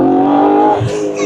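A tuned performance car's engine revs hard near 8000 rpm, a loud, steady, high-pitched roar close by that shifts in tone near the end, with no talk over it.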